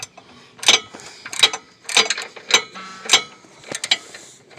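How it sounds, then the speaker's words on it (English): A ratchet wrench works a wheel bolt into a 2012 Hyundai Elantra Touring, producing close, crisp clicking bursts in a steady rhythm of about one stroke every half second, with small metallic ticks between. "just take your ratchet or a wrench and just work it in"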